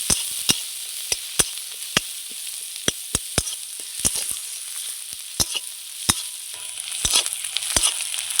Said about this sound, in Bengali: পেঁয়াজ আর কাঁচা লঙ্কাটা আমি খুব সুন্দর করে ভেজে নেব, লাল লাল করে।